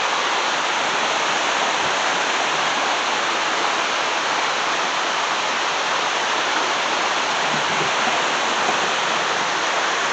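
Low river water pours steadily over rocks below an old foundation, a dense, unbroken rushing hiss that stays even and close throughout, with no voices.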